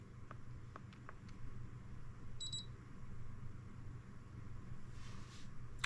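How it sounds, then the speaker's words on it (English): A mini split air conditioner answers a remote command with a short electronic beep, a brief pair of faint high tones against a steady low hum of background noise. "it will make a little beeping noise"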